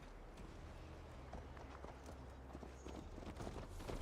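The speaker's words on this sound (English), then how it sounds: "Mount up, Eivor. It's a long ride to Tamworth." Horse hooves pound along in Assassin's Creed Valhalla, a faint, continuous run of clip-clop beats under low game ambience, steady throughout without talk.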